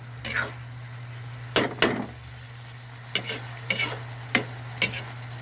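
A shrimp-paste (alamang) omelette fries in a pan under a steady low hum, broken by several sharp scrapes and clacks of a spatula at uneven intervals.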